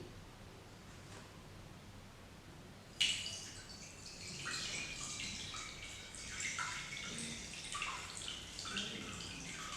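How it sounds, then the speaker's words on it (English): Cold tap water runs steadily to cool a burn, a broad hissing splash that starts abruptly a few seconds in and continues unbroken, close and moderately loud, after near silence. "The faster and the longer a burn is cooled in the cold running water, the less the impact of injury."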